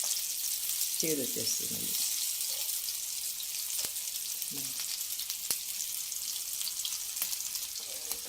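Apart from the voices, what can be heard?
masala frying in a pan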